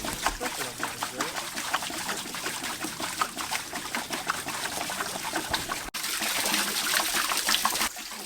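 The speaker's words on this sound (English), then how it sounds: "We got water coming through the flume now." Water trickles and splashes steadily through a flume feeding a water wheel for hydro power at an off-grid cabin, a continuous watery rush that grows a little stronger toward the end.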